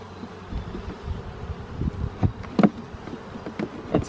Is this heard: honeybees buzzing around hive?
yes